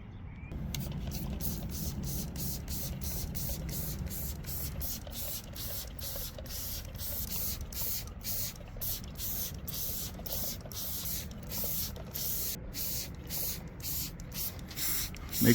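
A handheld sprayer mists heavy-duty carpet pre-spray onto a car seat in quick, repeated trigger pulls, a rhythmic run of short hissing bursts over a low steady background hum.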